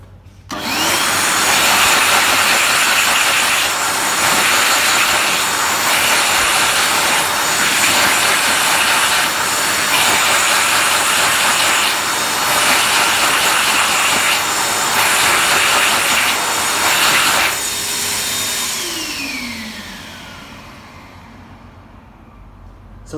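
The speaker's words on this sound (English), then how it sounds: "today we have a JetDryer Echo hand dryer, as you can see." A JetDryer Echo jet hand dryer in a public toilet roars loudly and steadily for about seventeen seconds, then winds down with a falling whine.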